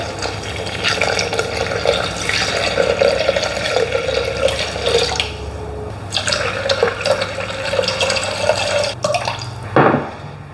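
Filtered water poured into a Thermomix jug, a continuous splashing stream with dripping, fairly close and loud, briefly tapering near the end.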